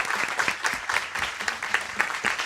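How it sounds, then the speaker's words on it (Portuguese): Seminar audience applauding Henry and his team, a lively burst of many hands clapping in an uneven, rhythmic patter, fairly close and moderately loud, with no speech over it. "eu pediria a salva de palmas para o Henry, para toda a sua equipe"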